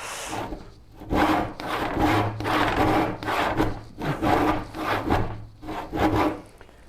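A dull hand rip saw cuts through wood in steady rhythmic strokes, about eight rasping pushes and pulls at close range with brief pauses between them.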